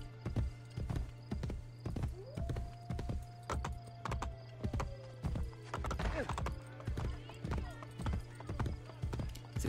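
Steady, evenly paced horse hooves clip-clopping throughout in the video game Assassin's Creed Brotherhood, with a brief whinny partway through and a low constant hum underneath.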